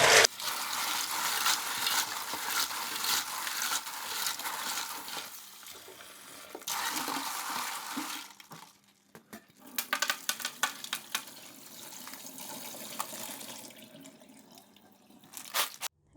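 Lala clams rinsed in water, with running and splashing water and shells clattering and rattling in a basin, first steady, then broken into irregular close splashes and knocks.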